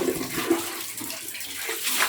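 Water poured from a container into a dirty toilet bowl while cleaning a comfort room, a close, steady splashing gush lasting about two seconds.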